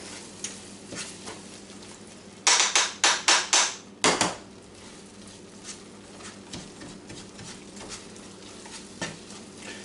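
Chorizo cooking in a pan, a low steady sizzle interrupted by a burst of five or six sharp rhythmic knocks and another hard clank, then quieter sizzling with occasional taps.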